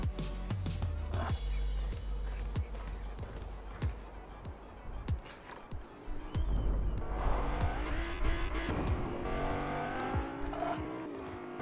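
A car drives around in Fortnite, its engine revving and droning with tire squeals and skids, growing louder and busier toward the end.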